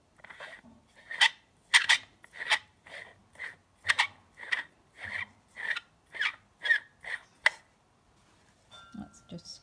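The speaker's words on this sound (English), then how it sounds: "That's just screwing it up tight." A Motic microscope camera adapter screwed up tight, a rapid series of about fifteen short close rasping twists, fairly faint, with brief rustling at the end.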